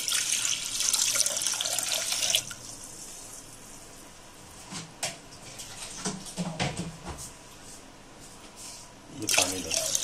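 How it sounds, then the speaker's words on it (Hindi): Tap water poured into a pressure cooker on a home kitchen stove while cooking dal, a bright splashing pour for the first couple of seconds, then quieter clinks and handling sounds before another brief pour at the end. "अब इसमें ये कुकर में मैं पानी डाल दिया हूँ"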